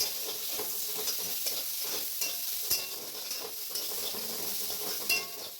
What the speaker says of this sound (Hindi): अभी हम प्याज डालेंगे। थोड़ा नहीं, थोड़ा ज़्यादा फ्राई करेंगे।